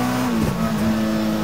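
A custom mid-engine Mini fitted with a motorcycle engine and gearbox revs loudly, a brief sustained high-pitched engine tone that holds steady over a second and a half.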